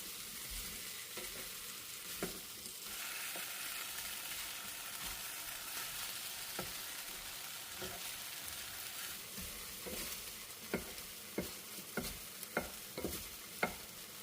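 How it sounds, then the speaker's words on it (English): Potatoes sauté in a skillet with a steady, even frying hiss, broken by quiet, intermittent scrapes and taps of stirring that grow more frequent toward the end. "I want to saute the potatoes before I start to cook the ground beef"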